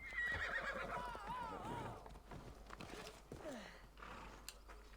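A horse in Assassin's Creed Odyssey lets out a loud, descending whinny, followed by hoof clatter and a couple of shorter snorts and neighs over the next few seconds.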